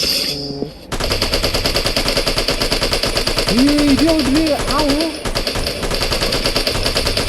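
Rapid bursts of video game gunfire rattle continuously and loudly, with synthetic tones and effects layered over the shooting.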